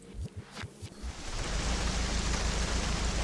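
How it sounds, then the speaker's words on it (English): Rain in the Assetto Corsa racing game at Brands Hatch, with a Ferrari 488 GTB, builds after a few brief thumps into a steady, dense hiss of falling rain that carries on loud and unbroken. "The rain on this one starts as soon as you join a session, as soon as you start a session."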